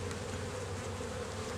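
Worker honey bees crawl over a honey super frame in a hive, giving a faint, steady buzzing hum throughout.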